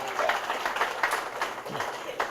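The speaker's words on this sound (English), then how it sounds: "Give her a round of applause" An audience at a summer program claps in a short burst of scattered applause, mixed with talking voices.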